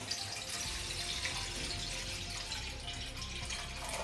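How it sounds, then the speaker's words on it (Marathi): Four cups of water poured into a kadai, a soft, steady splashing stream that stays faint and continuous throughout. "एका कढईमध्ये आपल्याला इथे चार कप पाणी घ्यायचे आहे"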